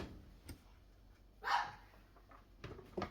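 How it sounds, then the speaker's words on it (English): A pug barks a few times in a home kitchen, short muffled yaps that sound slightly distant, with one stronger bark in the middle and quieter ones near the end. "I have no clue why she's barking."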